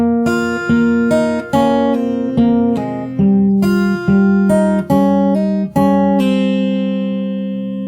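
Solo acoustic guitar picks the opening of a song fingerstyle, about a dozen plucked notes and chords in a lilting rhythm with a few quick runs, close and bright, ending on a long sustained ring, no voices.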